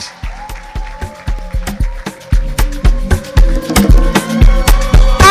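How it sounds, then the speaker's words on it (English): Audience at a youth leadership event clapping to welcome a guest on stage, rhythmic group clapping in a steady beat with bass thumps underneath, loud and close. "A round of applause as we welcome Bisola Ayola as she joins me on stage"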